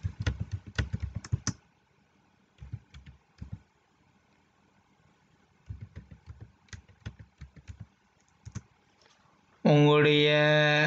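Bursts of typing on a computer keyboard while filling in an online form, close and clicky with pauses between runs, then a loud voice cuts in at the end.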